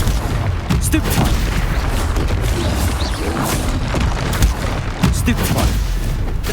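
Spell combat in Hogwarts Legacy, with Stupefy, Expelliarmus, Confringo and other spells cast in rapid succession, producing a relentless, loud barrage of booming blasts and crackling impacts with no pause.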